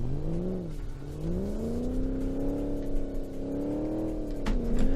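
Car engine in the BeamNG driving game revving up and easing off in smooth, rising and falling pitch sweeps, loud and continuous, with no voices.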